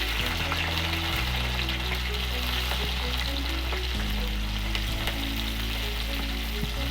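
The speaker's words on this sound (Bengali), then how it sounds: "কলাইগুলো আগে ভাজতে দেবো।" Kalai lentils frying in hot oil in a wok, a steady close sizzle and crackle lasting throughout, with a low hum running underneath.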